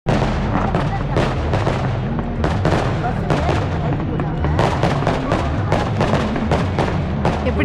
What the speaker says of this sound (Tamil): எப்படி வெடி வெடிச்சுக்கிட்டு இருக்காங்க பாருங்க.